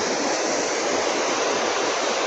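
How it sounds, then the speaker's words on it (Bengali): Water pours with great force through two open barrage gates, making a loud, unbroken roar of rushing water heard up close with no other sounds. "দুটো মাত্র খোলা রয়েছে, তাতেই জলের যে গতি সত্যি ভয়ঙ্কর একটি ব্যাপার"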